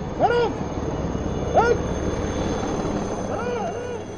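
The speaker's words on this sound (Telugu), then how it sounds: "The Indian Air Force's aircraft flypast KGMC a hospital in Lucknow and they dropped flower petals expressing their gratitude." Indian Air Force aircraft fly past over KGMC hospital in Lucknow, a broad, steady engine roar with a few short, high chirping sounds on top.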